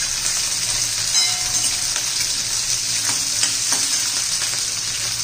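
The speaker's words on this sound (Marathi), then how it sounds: "छान 1-2 मिनिटं चांगलं परतून घ्यायचे।" Potato, carrot and cabbage sauté in hot oil in a pan, a steady close sizzle and frying hiss with occasional stirring scrapes, no voices.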